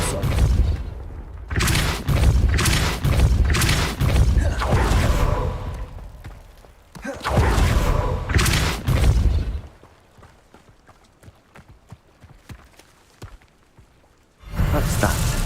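Spell blasts in Hogwarts Legacy, Confringo and Depulso, land as loud booming whooshes in several bursts separated by short pauses, followed by a quieter stretch of faint clicks before another blast at the end.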